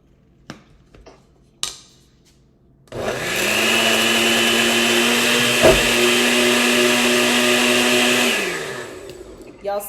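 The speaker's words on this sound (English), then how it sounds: "this blender does not like me" A blender blending garlic for raw vegan bolognese roars loudly and steadily for several seconds after a few clattering knocks, then winds down, with a sharp knock in the middle of the run.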